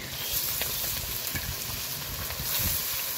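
Sweet ash gourd pieces dropped into hot oil in a pan, a continuous crackling sizzle with light stirring, moderately quiet and close, with no talking.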